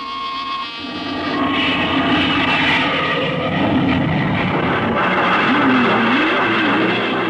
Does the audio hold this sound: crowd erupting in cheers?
no